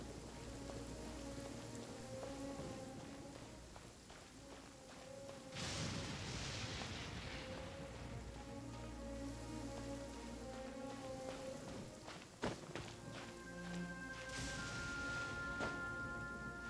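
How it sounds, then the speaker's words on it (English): Heavy rain pours steadily on surfaces for the whole stretch, with a couple of louder broadband surges like distant thunder and a faint tonal layer underneath. "This heavy rain must be quite an inconvenience for you."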